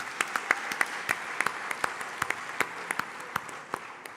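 Audience at the Afreximbank Annual Meetings applauding a footballer, a moderately sized crowd clapping steadily with distinct sharp individual claps standing out over a continuous patter, at a moderate distance.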